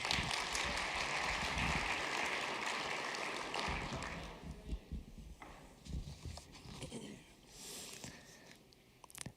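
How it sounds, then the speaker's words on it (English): Audience at a stage talk applauding, dense clapping for about four seconds that thins into scattered claps and fades out. "Everybody give a round of applause,"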